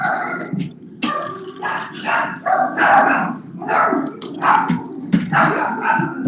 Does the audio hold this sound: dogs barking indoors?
yes